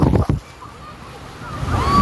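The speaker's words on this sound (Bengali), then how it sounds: "তোমাদেরকে দেখাচ্ছি জলের ঢেউ আসে কিভাবে" Ocean surf at Puri recorded from within the water, a wave washing in with a short splash and sloshing swell, muffled and close, rising again at the end.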